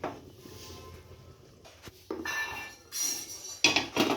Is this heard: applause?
no